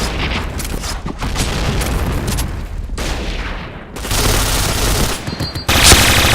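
Rapid automatic gunfire and booming shots fill the shooter video game Point Blank, with dense bursts of fire that pause briefly and then resume even louder.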